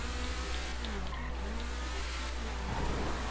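A pest control van driven in the video game GTA V, its engine droning loud and steady with a brief tire squeal near the end, with no talking.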